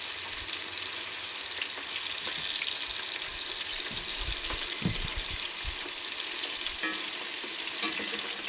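Deer sausage sizzling and frying in hot lard, a steady crackling hiss with occasional stirring clinks and bubbling, close and continuous without talk.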